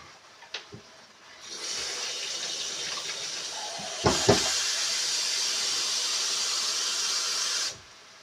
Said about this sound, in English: I'm going to go ahead and add the water now.